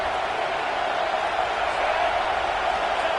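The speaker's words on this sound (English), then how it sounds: "Tremendous crowd atmosphere now in the final minute of play." Stadium crowd at a college football game, Oklahoma playing, in the final minute. A dense, loud wash of crowd roar holds steady throughout with no distinct claps or cheers standing out.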